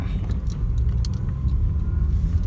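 A car driving along a rural road, a steady low engine and tyre rumble heard from inside the vehicle with faint clicks and rattles, no talking.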